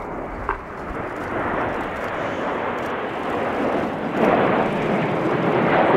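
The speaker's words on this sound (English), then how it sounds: "Get those cameras ready for the Typhoon roll." A Eurofighter Typhoon jet roars steadily overhead during an air show display at RIAT, a broad sustained rumble that swells louder toward the end, with no talking.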